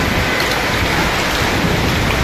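Heavy rain with hail pounding down in Dammam, Saudi Arabia, a dense, loud, unbroken roar of drops hitting surfaces close by, with no voices.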